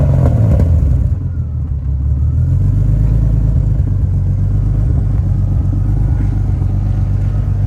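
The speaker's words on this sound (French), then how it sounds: "Je pense qu'on va démarrer du coup" BMW 328is with a big turbo tuned to 500 hp starts up, then settles into a loud, steady rumbling idle close by, with no talk over it.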